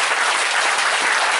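A church congregation at a prayer vigil claps to acclaim Jesus, giving dense, loud, continuous applause from a large crowd.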